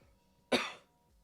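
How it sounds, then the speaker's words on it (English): A single sharp cough, close and loud against a quiet background, fading quickly. "Apologies for the cough into the mic."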